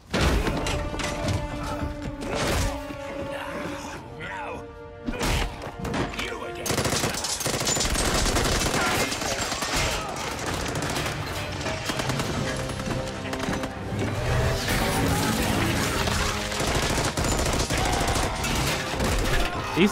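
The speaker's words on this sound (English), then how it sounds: "He's still shooting that gun even though he's frozen." Rapid bursts of gunfire from a frozen enemy in a Batman video game, loud automatic shots over game music with thuds and crashes, and some talking.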